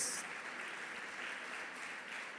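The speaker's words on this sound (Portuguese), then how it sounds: "Aplauda o Senhor em nome de Jesus." Church congregation applauding during a worship service, a steady, fairly quiet wash of clapping heard from a distance that holds evenly throughout.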